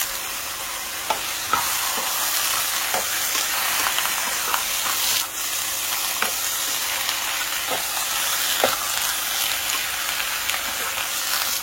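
Spinach, eggplant and okra fry in a pan with a steady hiss and sizzle while a spoon stirs through them, its scrapes and taps landing every second or so, close and clear with no talk.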